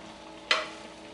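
Pasta dropped into a very hot pan with prawns, giving one sudden loud burst of sizzle that quickly fades back to a soft steady frying hiss.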